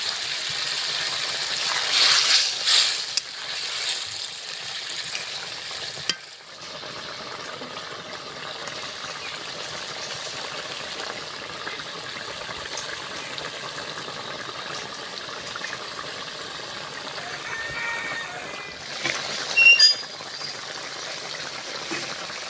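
Gravy boiling in a pot with fried taro koftas added, a steady bubbling and simmering hiss throughout with a few louder sputters and splashes.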